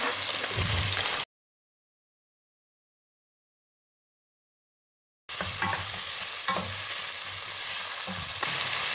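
Sliced onion hits a frying pan with bell pepper over medium heat, giving a loud, continuous sizzle with stirring scrapes, broken by a few seconds of silence.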